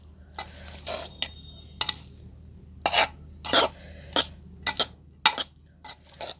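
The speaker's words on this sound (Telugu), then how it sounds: "ఉప్పుని నిమ్మకాయ రసాన్ని మంచిగా అన్నానికి మంచిగా పట్టేటట్టు కలుపుకుందాం" Cooked rice being mixed with salt and lemon juice in a pot, heard as a series of separate close scraping and clattering strokes of a spoon against metal, spaced irregularly with quiet gaps between.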